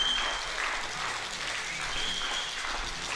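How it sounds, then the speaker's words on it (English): Spectators at a junior 10m air pistol mixed team shooting final in Sydney clap along in a steady rhythm, a moderately distant, even patter of many hands with no voices over it. "The crowd are getting into this one now. Clapping along."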